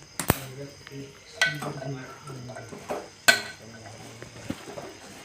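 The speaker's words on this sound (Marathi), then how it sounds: "चमच्याने हलवून घेऊ" A spoon stirs cauliflower curry (phulgobi bhaji) in a metal pot, with sharp clinks and scrapes against the pan at irregular intervals and soft low clatter between, close and fairly loud.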